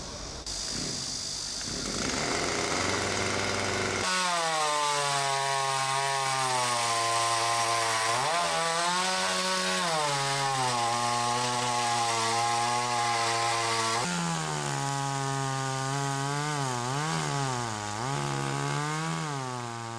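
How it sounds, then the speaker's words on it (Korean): An electric chainsaw cuts wood blocks to size for moktak wooden temple bells in a workshop, its motor whining loud and steady for a long stretch. The pitch dips and rises as the blade bites into the wood. "미리 선별해둔 나무를 목탁 크기에 맞게 재단하는 것이 오늘의 첫 번째 일과입니다"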